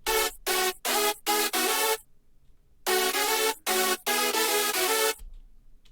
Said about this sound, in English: And here is the chords and the lead with all the processing except the final send bus.